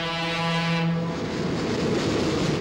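A train sounds a long steady horn that stops after about a second, then a loud, continuous broadband rumble of the train rolling past fills the rest, close and steady.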